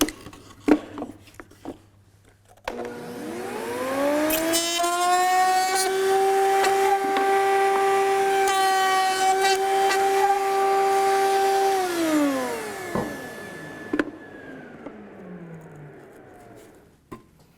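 A router cuts along a wooden hope chest rail with a steady, high motor whine. It spins up, holds a sustained tone for about ten seconds with a rough cutting edge on top, then winds down, loud and near with no voices.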